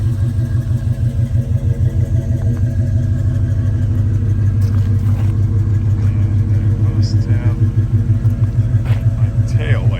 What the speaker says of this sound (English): Got good sounding exhaust.